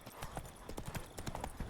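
Horse hooves gallop in The Witcher 3 game, a quick, busy clip-clop of a running horse, close and moderately loud throughout.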